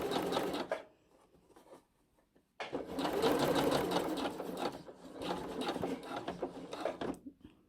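A sewing machine runs in fast, steady bursts while back stitching along a trouser hem, stopping briefly before starting again, loud and close with no talk.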